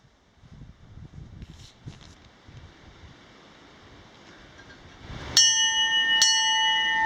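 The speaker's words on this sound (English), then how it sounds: "Ringing the bell." Two loud clangs of a large bell at a railroad museum, each ringing out with a long metallic tail, following several seconds of faint wind and footsteps outdoors.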